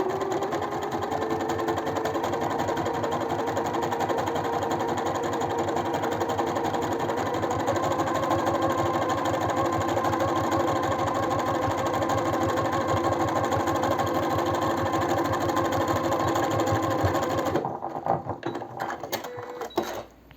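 A sewing machine runs steadily, stitching a seam about 1.5 cm from the edge of a fabric-scrap zippered cosmetic organizer. The whirring is loud and continuous, then stops near the end.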